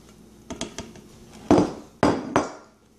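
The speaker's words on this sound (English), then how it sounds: "I'm just going to add this flour to my wet batter, and I'm going to mix it with the spatula." A spatula works flour into wet batter for a Nutella and roasted banana bread, knocking and clinking against the bowl in a few irregular strikes, two of them sharper and louder, close by with no talking.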